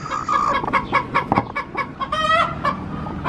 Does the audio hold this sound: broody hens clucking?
yes